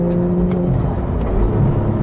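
A Porsche 911 GT3 of the 991.1 generation with a 3.8-litre engine pulls at full throttle in fourth gear, a loud, steady, high-revving engine note heard from inside the car.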